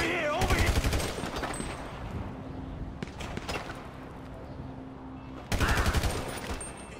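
Bursts of gunfire from Grand Theft Auto V during a construction-site assassination, two sharp rapid volleys several seconds apart with scattered shots between, under busy game noise.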